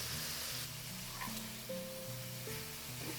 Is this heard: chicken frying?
yes